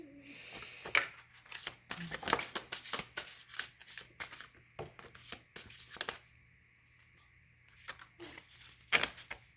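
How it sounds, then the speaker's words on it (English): Tarot cards are slid and picked from a deck nearby, giving a run of quick papery flicks and rustles at irregular intervals. "let me pick a few cards from here"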